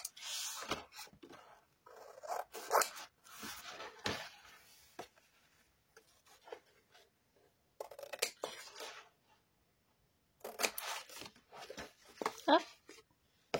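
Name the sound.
cutting corners of a paper album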